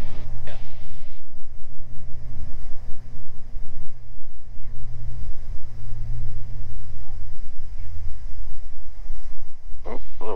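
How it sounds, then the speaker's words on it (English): Strong wind buffets a twin-engine Beechcraft Baron during landing, a steady roar of wind and engine noise heard from inside the cabin with a sudden gust, loud and continuous. "Oh, a little gust."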